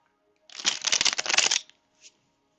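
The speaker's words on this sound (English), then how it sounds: "I'm going to use my Sexual Magic Tarot deck. So let's do one more shuffle." A tarot deck riffle-shuffled once at close range, a dense second-long burst of rapid card flicks followed by a single soft tap.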